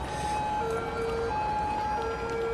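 Wailing emergency siren in the city-building game Cities: Skylines, alternating between two pitches, steady and moderately loud over a constant background drone.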